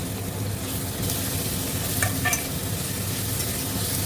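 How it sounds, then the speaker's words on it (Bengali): Ginger garlic paste dropped into half-browned onions in hot oil for chicken biryani, a loud steady sizzle with a few spoon scrapes and clinks near the middle, close-up and without speech. "এই অবস্থায় দিয়ে দেবো এই যে আদা আর রসুনের পেস্ট"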